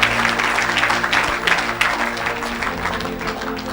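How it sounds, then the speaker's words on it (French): A church congregation breaks into clapping and cheering for Jesus during a French-language sermon, a lively burst of mixed applause with a low hum beneath that eases slightly over the few seconds. "Est-ce qu'on peut acclamer pour Jésus?"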